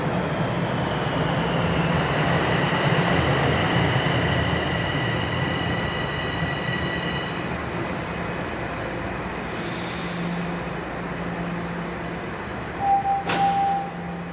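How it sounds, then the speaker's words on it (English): A Toronto subway train rolls into a Line 4 station with a loud steady roar, wheels squealing in long high tones, then slowing, with a short chime near the end. "Here comes the train."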